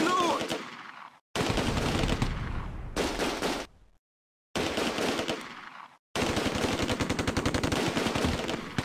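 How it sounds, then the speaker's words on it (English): Rifle and automatic gunfire from the Close Combat: A Bridge Too Far war game rattles in several loud, rapid bursts of sharp shots, broken by short moments of total silence. "An enemy flamethrower falls to rifle fire."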